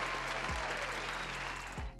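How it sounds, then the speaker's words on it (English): Applause in a studio-style talk setting, a continuous even wash of clapping with a low steady hum beneath and two brief low thumps, lasting a couple of seconds. "Go ahead, give a round of applause."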